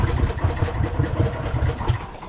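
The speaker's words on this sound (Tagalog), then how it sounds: "Ito yung makina." A fishing boat's engine runs steadily at sea, a continuous low throbbing drone with a mid-range mechanical chug, close and fairly loud with no voices over it.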